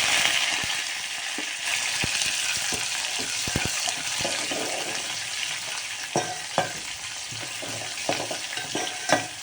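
Onion and curry leaves hit hot oil with popping mustard seeds, a loud continuous sizzle close by, broken by sharp clinks and scrapes of a stirring spoon against the pan.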